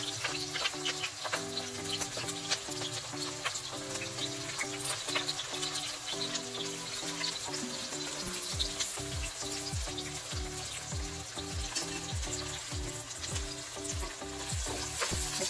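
Onions and garlic with cumin seeds fry and sizzle steadily in hot oil, with repeated scraping strokes from stirring for a dhaba-style shahi paneer, close and continuous with no talking.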